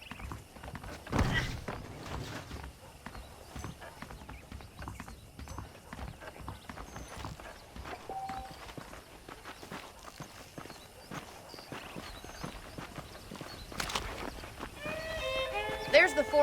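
Saddled horses clip-clop along in the Red Dead Redemption Western video game, a steady run of hoof falls that stays close throughout, with a few louder thumps, a brief whinny and light background chatter.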